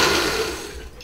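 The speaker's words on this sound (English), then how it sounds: "take some of this out, put it in the blender" A blender whirs loudly as it liquefies hot wing sauce, a dense high-pitched motor whine that holds steady and then gradually fades toward the end.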